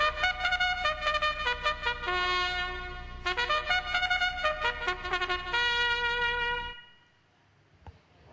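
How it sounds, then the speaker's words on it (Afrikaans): A trumpet plays a melodic phrase of sustained and repeated notes, loud and clear, then stops and leaves near silence. "Dis reg. 'n Trompet."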